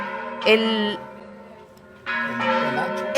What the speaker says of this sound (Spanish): creo que estas campanadas anuncian la salida